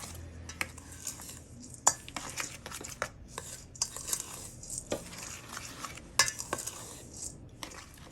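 A utensil clinks and scrapes steadily against a bowl while egg, sugar and vanilla batter for a walnut and coffee-flavored cake is stirred by hand, giving close, uneven taps and rattles.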